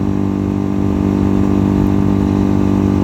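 A Megelli 250r motorcycle engine hums steadily while riding through a long corner, a loud, even mid-pitched drone with a constant throttle. No talk.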